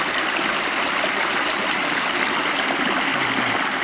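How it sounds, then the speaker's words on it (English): A flat, expandable water bottle is being filled in a flowing stream. Steady rushing and trickling water runs close by, with no voices, for about four seconds. "There's this flat water bottle that expands that I'm just getting water with."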